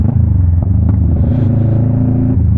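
Car engine rumbling loudly up close as the driver shifts down into second gear, a deep steady drone with a brief rev swell and faint clatter, no talk heard over it.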